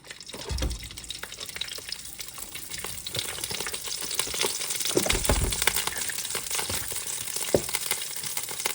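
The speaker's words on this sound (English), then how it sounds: "So all you want to do is just start breaking up the rice, moving it around, getting it all coated in that oil as you're doing so." Day-old rice stir-fries in oil in a pan with a steady, crackling sizzle. Occasional scraping thumps come from the stirring, close by, with no talk.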